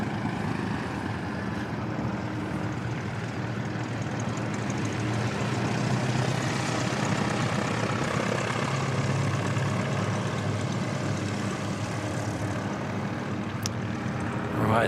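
Boeing 747-400 freighter at Christchurch Airport being pushed back, a steady broadband engine roar and hum filling the whole stretch at constant loudness, with no voices.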